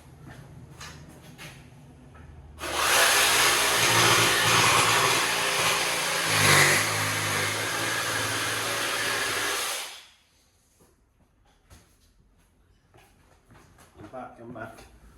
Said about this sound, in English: So I'm just going to jigsaw this piece out quick.